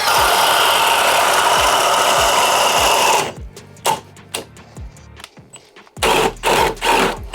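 Milwaukee Gen 3 hammer drill boring with a 1.5 inch spade bit, giving a loud, rhythmic, pulsing whir for about three seconds before stopping, followed by scattered knocks and a short burst of motor noise.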